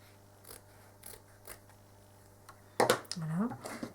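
Small round-tipped scissors snip through fabric in a few quick, crisp, evenly spaced cuts close to the microphone, and then a person starts talking.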